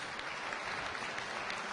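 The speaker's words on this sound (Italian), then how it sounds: "C'è lo sportivo applauso del pubblico del Palabarbuto" Sports crowd in the Palabarbuto basketball arena applauding a player helped off the court, a steady, dense wash of clapping that fills the whole stretch without a break.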